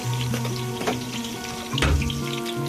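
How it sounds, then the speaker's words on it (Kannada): Something fries in a pan on a gas flame while khushka is being cooked, giving a bubbling, watery sizzle with a few louder pops and crackles and a steady tone underneath. "ಫ್ರೈ ಆಗ್ತಾಯಿದೆ"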